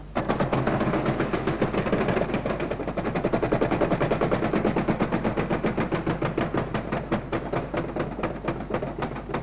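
A game show prize wheel spins on a Dutch TV quiz, a dense, rapid run of clicks ticking steadily and loudly throughout with no voices over it.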